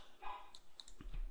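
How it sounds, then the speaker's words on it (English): A dog barks indoors, a short faint yip or two near the end, mixed with light clicking sounds, with no talking. "sorry my dog barked"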